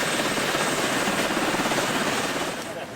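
A helicopter being readied to transport gorillas runs loudly nearby, its engine whine and beating rotor forming a steady roar that eases slightly near the end.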